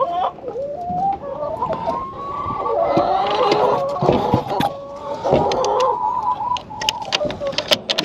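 Chickens cluck and crow inside a backyard chicken coop, with a steady run of nearby clucking and fowl calls throughout and no talking.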